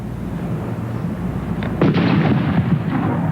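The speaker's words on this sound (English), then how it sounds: "Hattie, you have to believe that is a major explosion." A watermelon blows apart in an explosive demonstration of a dangerous device's power, heard as a loud sharp blast that breaks over a background rumble, followed by crackling debris and a ringing tail.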